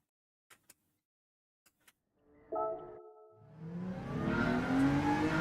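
A Honda NSX engine in Gran Turismo 7 fires up after a few soft clicks, settling into a brief idle before revving and accelerating hard, the engine note climbing steadily and growing louder toward the end.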